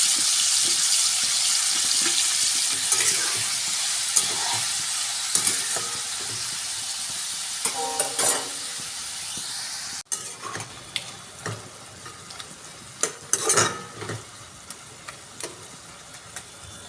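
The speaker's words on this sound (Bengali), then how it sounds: "আর চিংড়ি মাছটা ভাজা হয়ে গেছে" Prawns coated in salt and turmeric fry in hot oil in a kadai, giving a steady close sizzle throughout with occasional stirring scrapes and small pops, no talking.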